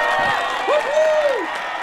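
An audience at a real estate sales awards ceremony cheers for an award recipient, with a loud rising-and-falling whoop or whistle over a crowd murmur close by.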